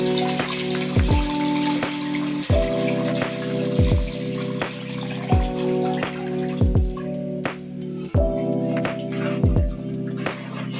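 Water is poured into a pot of fish curry with onion and chili powder, a steady close gurgling stream with intermittent drips and splashes, no talking.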